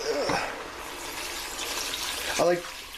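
Broth pours into a pot of chicken noodle soup as a steady liquid splash lasting about three seconds, with a brief voice at the start and the end.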